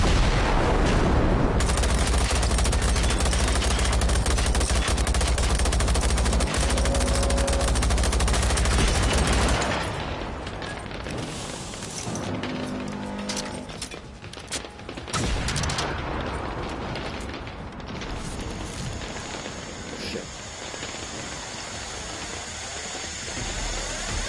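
Dense, loud gunfire from shooting enemy machines in Generation Zero, first a nonstop volley of shots, then a quieter stretch with scattered bursts and mechanical clatter.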